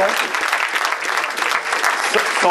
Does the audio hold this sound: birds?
no